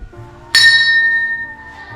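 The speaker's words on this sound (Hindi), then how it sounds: "अंदर मंदिर की घंटी" A temple bell inside a temple, struck once with a bright metallic clang that rings on with a clear, slowly fading shimmer, close and alone.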